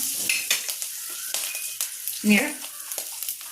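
Turmeric powder stirred into a hot frying pan gives a sharp sizzle with brief scraping of a spoon against the pan, quick and close, with a few faint words spoken.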